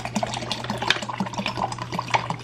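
Bottled water poured for a pineapple piña colada agua fresca, a steady trickling and splashing stream with small bubbling blips, fairly close and without talk.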